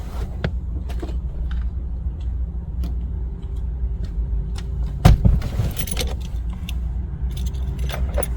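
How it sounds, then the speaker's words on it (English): Keys for a Honda Ridgeline jangle and clink close by in scattered bursts over a low vehicle rumble, with one louder rattle midway. "take the new unprogrammed key out of the vehicle and only keep the programmed working key in the vehicle."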